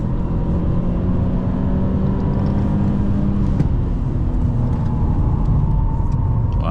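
An Alfa Romeo 159 1.9 JTS is heard from inside on a test drive, with a steady loud engine drone and road and wind rumble continuing without a break, with no talk.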